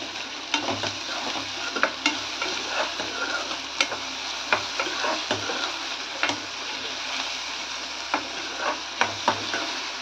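Chopped onion fries with a little salt in a pan while being stirred, a steady soft sizzle punctuated by repeated scraping and tapping strokes of a spoon, close and moderately quiet.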